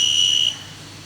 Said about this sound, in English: Oh, that buzzer.